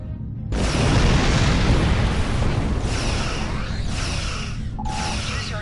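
A torpedo detonates in the Star Trek Online starship combat game, a sudden loud boom followed by a long roaring rumble with whooshing debris and faint electronic tones layered on top.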